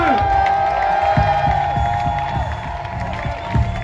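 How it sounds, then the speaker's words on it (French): A crowd cheers and applauds for skater Alexandre Jumelin at the FISE extreme sports festival in Montpellier. The clapping and whoops are steady and fairly loud throughout, with a few sharper claps standing out. "il va vraiment falloir faire un tonnerre d'applaudissements pour Alexandre Jumelin, mesdames et messieurs"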